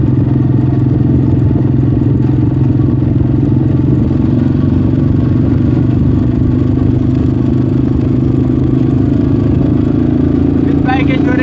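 Beach bike engine running steadily throughout a half-round ride along the sand at Cox's Bazar, a continuous loud low drone with rattling clatter and wind, no pauses.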